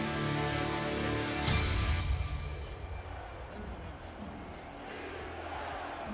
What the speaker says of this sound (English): the Skyhawks crowd here getting noisy tonight